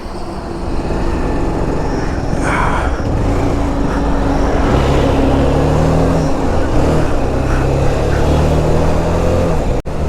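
A motorcycle engine runs steadily and loudly close by on a roadside after its clutch cable has snapped, with a constant drone throughout and no talking.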